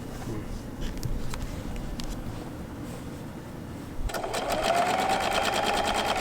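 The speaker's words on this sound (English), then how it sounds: "he's going to be sewing from the end here to the mark" A sewing machine stitches a fabric face mask, its rapid, steady mechanical whir starting partway through after a quieter stretch of room noise and continuing loud and close to the end.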